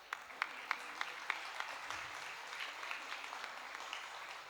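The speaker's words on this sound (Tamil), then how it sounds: "ஒரு கரகோஷம் தான் கொடுக்கணும் அந்த பசங்களுக்கு" Quiet audience applause for students at a school event, a soft continuous patter of clapping with a few sharper individual claps standing out near the start.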